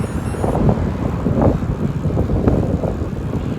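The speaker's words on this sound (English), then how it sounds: "It's a little bit windy. I hope you can hear the wind sound." Wind buffets a microphone while cycling outdoors on a breezy day around a lakeside park, a steady rumbling gusty roar with traffic faintly in the background and no talking.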